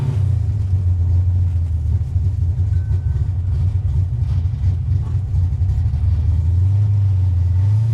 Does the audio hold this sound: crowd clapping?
no